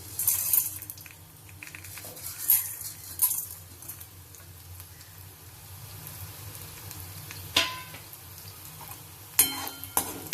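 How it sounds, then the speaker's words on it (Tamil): Dried red chillies, chana dal, coriander seeds and black pepper roast in oil, giving a soft, steady sizzle broken by occasional sharp clinks and scrapes of stirring in the pan. "இதை செவக்க வறுத்து எடுத்துக்கணும்."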